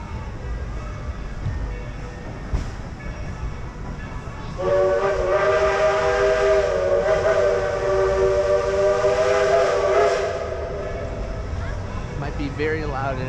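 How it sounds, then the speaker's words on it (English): Steam train whistle at the Dollywood theme park in Tennessee's Smoky Mountains, a sustained loud multi-tone blast of about six seconds as the train approaches slowly, with park ambience and people talking around it. "That's the train coming up slowly but surely."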